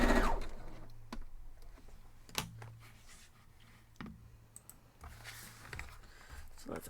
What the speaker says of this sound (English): we have to sew them together